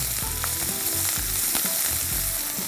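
Drumstick leaves sauté in a hot pan for soup, giving a loud, continuous close sizzle with intermittent stirring scrapes and soft knocks, no voices.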